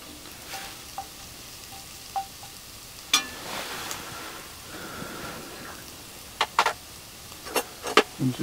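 Onions with sprigs of thyme sizzling in a pan over an outdoor woodland cooking fire on a rainy day, a soft steady frying hiss broken by scattered crackles and light stirring clicks.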